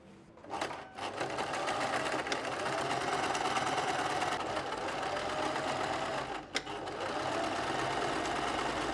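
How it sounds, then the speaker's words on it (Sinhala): A sewing machine stitches three sides of a fabric mug bag, running in a fast, steady whir at close range with a short pause near the start and a brief clunk later on. "වටේ තුන් පැත්ත මහ ගන්නවා ෆුට් සයිස් එකේ ගානට."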